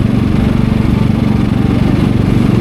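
A new generator on a farm runs in eco mode with a loud, close, steady engine chug and a fast regular pulsing throb, nothing else audible.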